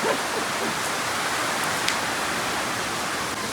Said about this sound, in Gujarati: ત્યાં અચાનક વરસાદ આવી ગયો